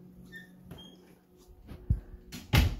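An indoor door swings shut in a home, ending in two sharp thuds near the end, the second louder, after quiet handling sounds.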